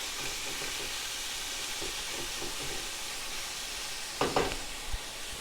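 Seasoned fajita meat sizzles in a pan with a steady, close frying hiss that runs throughout, broken near the end by a couple of brief scraping knocks as it is stirred.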